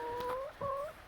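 Farm chickens kept in a movable trailer, giving soft clucking and warbling calls, two drawn-out tonal phrases, faint and moderately close against a quiet outdoor background.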